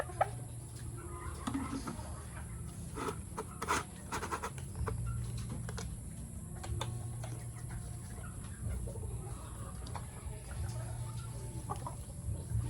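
White Kelso chickens cluck softly inside their coop, scattered low clucks and rustling over a steady background hum, fairly faint throughout.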